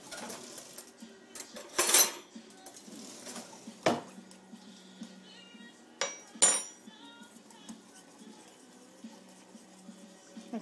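Country gravy is stirred in a pan with a spoon or whisk, giving scattered scraping and clinking strokes separated by quieter stretches and a faint simmer underneath.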